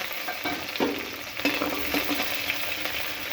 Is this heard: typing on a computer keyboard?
no